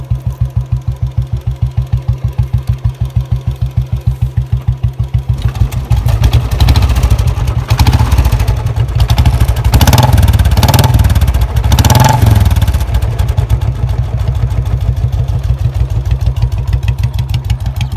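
A Bullet 350 motorcycle fitted with a mini Punjab silencer idles with a rapid, even thumping exhaust beat, then is revved louder for several seconds before settling back toward idle, close and alone.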